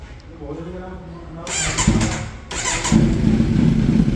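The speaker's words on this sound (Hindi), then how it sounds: "बाकी एक बार गाड़ी में आपको स्टार्ट करके सुना देता हूँ कि दोनों की साउंड कैसी लगती है" A Kawasaki Z900 motorcycle fitted with an aftermarket exhaust is cranked and fires up, its engine catching into a loud, rough rumble. Someone talks over the start, and the engine stays close and prominent.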